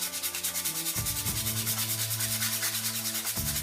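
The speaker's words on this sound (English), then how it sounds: "we'll take the sanding paper and we'll just knock a little off the corners" Sandpaper is rubbed quickly back and forth on the corners of a hockey stick repair sleeve, giving a close, rhythmic, continuous gritty scraping with no voices.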